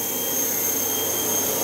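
A 1993 Makino KE-55 machine spindle runs at its top speed of 4000 rpm, giving a steady, even high-pitched whine with a broad airy rush and no voices.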